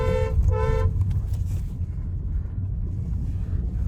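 A car travels along a village road in Madhubani, its low engine and road rumble steady throughout, with two short horn toots near the start and wind buffeting the microphone.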